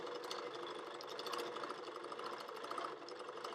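A HandiQuilter Moxi longarm quilting machine runs steadily with a fast, even mechanical chatter of needle strokes, close and continuous with no pauses, and no voices.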